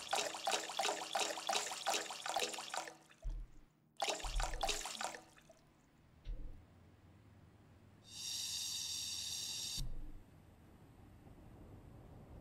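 Water being added to a mixing bowl in the video game Bakery Simulator: short gushing pours, with a longer, steady running-water stream in the latter half.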